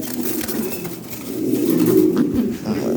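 A pair of black pigeons being readied for delivery coos in low, rolling, repeated phrases nearby, fairly loud and steady, with no talk over it.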